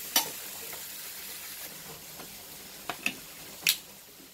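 Bitter gourd sautéing in a little oil for a tamarind curry, a faint steady sizzle with a few sharp stirring scrapes and pops scattered through.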